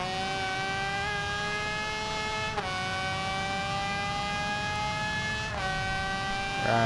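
Suzuki motorcycle engine in the racing game Ride 2, a steady high-pitched whine held at high revs on a race lap, with two brief dips at gear shifts, close and continuous, with no voices.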